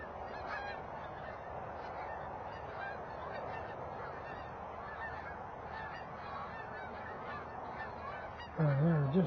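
Geese honk in a field during September goose season in Oregon, a chorus of calls at a distance that swells into a louder burst of honking near the end.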